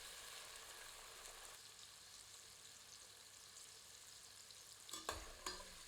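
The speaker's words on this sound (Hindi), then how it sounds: "तीव्र आंच पर मटर को भूनते रहते हैं ताकि यह फट जाएं।" Green peas sizzle and crackle in a pan over high heat while being stir-fried, a steady hiss of frying with a couple of sharp clatters from stirring near the end, with no voices.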